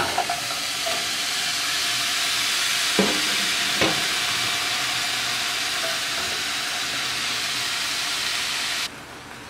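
Thin slices of steak frying in a hot pan, a close and continuous sizzle with a couple of brief stirring clatters and knocks, ending in a sudden louder hiss.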